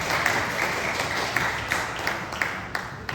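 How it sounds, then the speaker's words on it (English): Audience applause at a panel discussion, a continuous bed of many people clapping with a few sharper claps poking through, moderately loud and fairly close. "Give them a round of applause, please."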